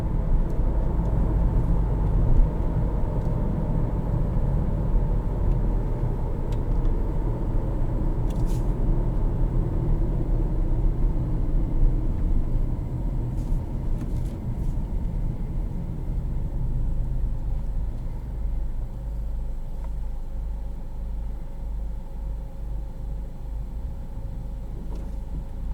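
A 2011 Acura RDX with a turbocharged engine drives steadily, its cabin filled with a loud, continuous low rumble and engine drone that eases slightly toward the end.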